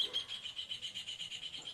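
Small birds chirp steadily in a quiet outdoor background, a soft rhythmic run of high tweets repeating through the moment, faint and distant with no voices over them.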